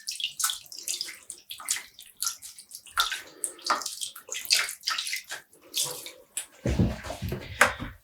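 Water splashes and drips as a dyed yarn skein is squeezed out over a rinsing tub, a run of irregular wet bursts and trickles that ends in a heavier pour, close and fairly quiet.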